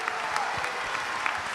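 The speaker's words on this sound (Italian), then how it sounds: "Poi 35 anni, bisogna fare un applauso." Crowd applause at a Friulian music festival marking a band's 35 years, dense, even clapping from many hands that sustains without a break, fairly close and loud.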